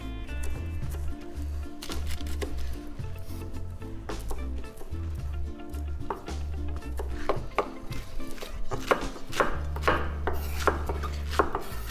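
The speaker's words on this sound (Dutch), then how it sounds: "En als jij dus spitskolen ook in fijne repen wil snijden," Knife slicing pointed cabbage into fine strips on a cutting board, a steady series of crisp chops and scraping strokes close by, with brief low thuds between bursts.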